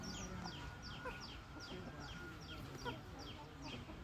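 Chickens cluck quietly nearby with short, repeated calls against a low background hum.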